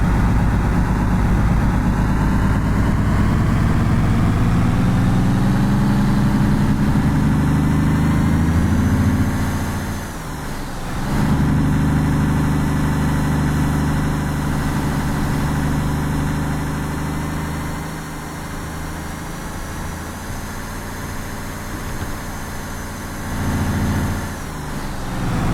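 A truck engine runs steadily in fourth gear on a rough, uneven ice road in Alaska, a loud continuous low drone that dips briefly around the middle and near the end before resuming.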